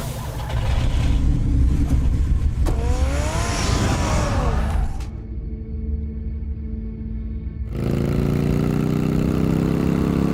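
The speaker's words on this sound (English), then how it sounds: "Get the car ready, Alfred." A car engine runs in Batman: The Telltale Series, a steady loud rumble with a rising whine midway, dropping into a quieter hum before the roar swells again.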